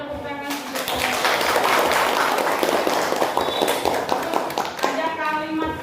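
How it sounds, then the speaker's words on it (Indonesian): A classroom group claps together after a teacher's request, a dense burst of applause lasting several seconds, with talk before and after it. "Ya, beri tepuk tangan."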